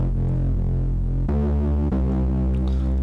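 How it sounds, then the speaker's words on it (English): A low, fat synth sound from a Logic Pro remake of a pop song, a sustained thick tone that throbs steadily and shifts pitch twice, loud and alone. "Sort of a low and fat kind of sound."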